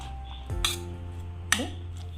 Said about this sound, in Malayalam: മിക്സ് ചെയ്തു